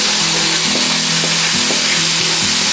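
Tomato, onion and cashew paste fries in a pan with ginger garlic paste and cinnamon, giving a steady close sizzle with a low droning hum running underneath, no voices.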